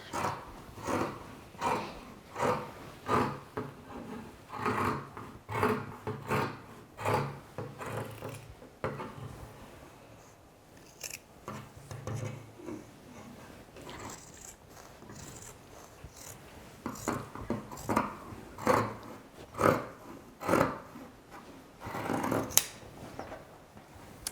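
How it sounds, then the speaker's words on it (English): Scissors snip through Pendleton wool fabric while coat sleeves are cut, giving faint, quiet bursts of cutting in irregular runs with short pauses between them. "once we've cut both sleeves"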